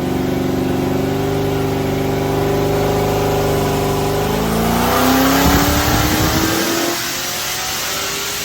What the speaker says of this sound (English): We're going to do some full throttle runs.